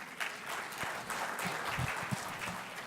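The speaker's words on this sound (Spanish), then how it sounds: "Recibamos con un aplauso al presidente de ANDA." Applause at an academic colloquium's inaugural conference as the association president is welcomed, a quiet, fairly distant patter of many hands with a few louder claps.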